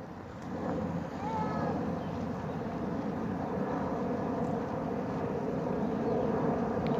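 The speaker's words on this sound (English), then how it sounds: "Airplane." An airplane flies overhead during an early morning walk in a park, a broad, steady rumbling roar blended with wind noise that swells slightly, with a brief voice early on.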